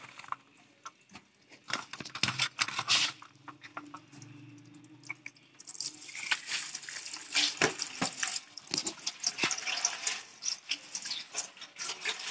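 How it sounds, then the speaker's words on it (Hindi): Cut potatoes being rinsed in a strainer under running tap water, a splashing, trickling stream that grows louder and busier partway through, with a hen clucking faintly nearby. "अभी ये देखे मैंने आलू को भी कटिंग कर लिया, अभी मैं धोने लगी हूँ उनको।"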